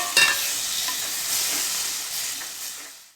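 Tomatoes hiss and sizzle in hot oil as they are stirred into Chettinad chicken masala with turmeric and curry leaves, a loud burst of frying at first that slowly fades over a few seconds.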